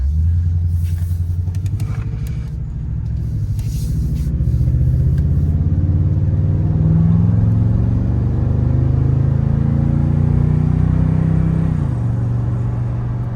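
Toyota Tundra TRD Pro pickup truck pulling up onto a main road, a loud low engine rumble that rises as it accelerates and eases off near the end.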